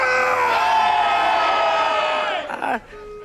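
A small crowd cheers and shouts for a confession, a sustained loud mix of whoops and yells that swells, holds, and then cuts off sharply before a quieter pause.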